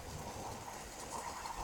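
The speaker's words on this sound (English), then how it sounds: "it does give off some type of train noise, but really not much." Steady, faint rumble and whir of a Hornby Inter-City 125 model train running on its track with an underpowered transformer, a continuous low hum with a light mechanical whine above it and no talking.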